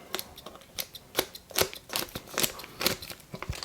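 Scissors on a Flissa 16-in-1 multitool snip repeatedly in quick, crisp cuts, about a dozen sharp slicing strokes in an uneven rhythm, close and fairly quiet.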